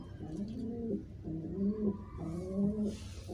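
Pigeons coo in repeated soft, throaty phrases at close range, three rolling calls in steady rhythm over a quiet room-like background.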